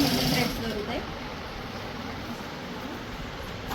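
Large maggam embroidery sewing machines run steadily in a busy workshop, giving a continuous mechanical whir and rattle under broad room noise, slightly louder at the start.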